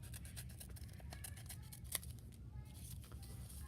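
Scissors snip through folded paper while cutting a wavy shape and a triangle for a kindergarten paper snowflake, producing quiet, irregular crisp snips over a low steady background hum.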